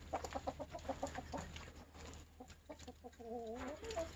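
A backyard flock of chickens clucks close by in repeated rhythmic bursts, with a few longer drawn-out calls toward the end and no talking.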